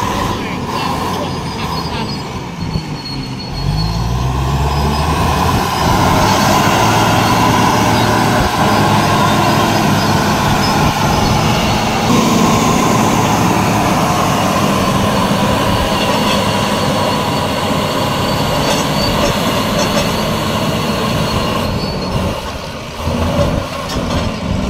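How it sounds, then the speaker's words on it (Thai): Two tractors, a Caterpillar and an XCMG, fill soil to build a road slope across a reservoir, giving a steady, loud diesel engine rumble that continues throughout with heavy machinery clatter. "รถแท็กเตอร์2คันครับฝั่งโน้นแคทฝั่งนี้ XCMG"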